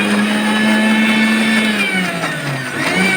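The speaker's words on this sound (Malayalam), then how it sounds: "അതിന് ഇത്ര പോർഷൻ എടുത്തിട്ട് നമ്മളിതൊന്ന് ചതച്ചെടുക്കണം മിക്സിയിൽ കേട്ടോ." A kitchen mixer grinder crushes fried tomato and onion for a prawn roast, its motor whining loud and close, with the pitch dipping briefly as the load shifts before rising again.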